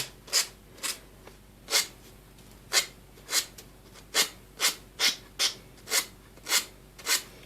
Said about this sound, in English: I did take my nail file here and just go around like this, and then that will just trim that edge right off nice for you